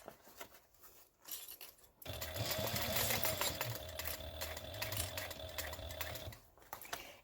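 A sewing machine stitches binding around a corner in a steady continuous run for several seconds, loud and close, with a steady hum and needle clatter, starting abruptly after quiet handling sounds and stopping near the end.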